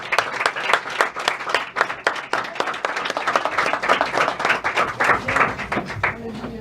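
A church congregation claps in praise, with loud, rhythmic, evenly spaced hand claps from many people together, steady for several seconds and then thinning out, with a voice faintly under the last moments.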